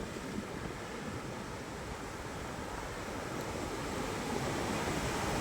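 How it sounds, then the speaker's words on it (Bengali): Sea waves break on the shore in a continuous broad wash with steady wind noise on the microphone. Fishing trawlers work far out on the water, and no one speaks. "এখানে কিন্তু সমুদ্রের ভালো ঢেউ আছে, ভালো ঢেউ আছে"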